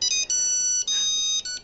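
A phone ringtone sounds for an incoming call in a comedy film scene: a bright electronic melody played in short repeating bursts with brief gaps, clear and alone.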